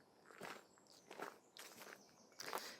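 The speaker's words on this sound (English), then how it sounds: "crunching of cobbles and leaves and footsteps" Footsteps crunching over cobbles and dry leaves on a woodland walk, four soft, evenly spaced crunching steps, quiet and close against faint outdoor ambience.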